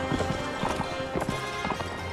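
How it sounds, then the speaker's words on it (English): Horse hooves gallop in Mount & Blade: Warband, a steady, rapid clip-clop rhythm that stays close and fairly loud throughout, with a faint whinny and other battle game sounds mixed underneath. "My horse is very slow."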